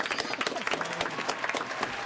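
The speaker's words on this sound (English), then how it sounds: "Give him a round of applause." Audience applause breaks out on a talk show, dense steady clapping across the whole short stretch, fairly close and full, with a few faint voices mixed in.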